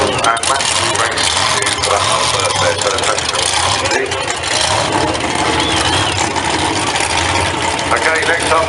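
Drag racing car engine at Santa Pod Raceway, a loud continuous roar that fills the whole clip with no breaks, mixed with the dense noise of the venue.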